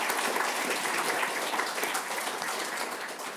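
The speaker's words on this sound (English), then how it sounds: "That's a good, healthy round of applause." An audience gives a warm, sustained round of applause for the panellists at a business analysis panel debate, dense steady clapping filling the room and easing off slightly toward the end.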